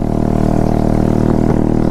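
A small commuter scooter with its silencer gone runs loud and close, its unmuffled exhaust giving a continuous, buzzing drone that holds steady for a couple of seconds.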